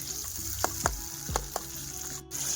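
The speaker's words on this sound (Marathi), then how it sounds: "कांदा टमॅटो वटाणे पूर्ण छान असं फ्राय करून घेणार" Onion, tomato and peas fry with cumin and spices in a pan at an outdoor farm meal, a soft steady sizzle with a few clinks and scrapes of stirring, no voices.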